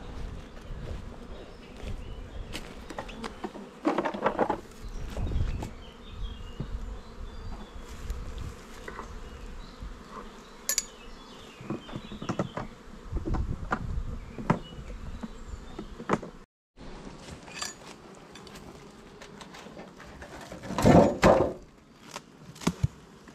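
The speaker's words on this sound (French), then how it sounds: "Mais il y a du monde, la ruche est populeuse" Honeybees buzzing thickly around a crowded, well-populated spring beehive, a steady close swarm drone with individual bees zipping past the microphone and a loud flyby near the end.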